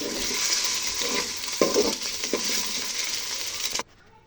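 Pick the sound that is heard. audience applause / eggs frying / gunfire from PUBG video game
eggs frying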